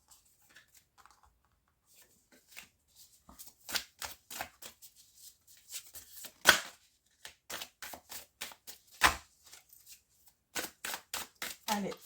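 Tarot cards are shuffled by hand in close, crisp bursts of riffling and flicking, irregular and quiet, separated by short pauses.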